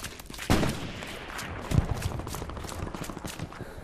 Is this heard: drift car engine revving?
no